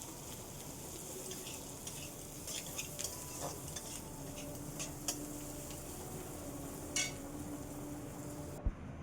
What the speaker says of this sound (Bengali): একটু কাশ্মীরি লঙ্কার গুঁড়ি, আবার নাড়াচাড়া করে নিচ্ছি।